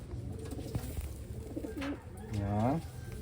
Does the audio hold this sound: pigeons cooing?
yes